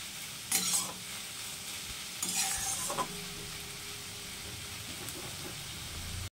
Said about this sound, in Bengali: খুব ভালো করে শাকটাকে নাড়তে থাকবো